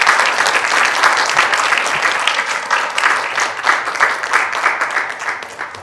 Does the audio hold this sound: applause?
yes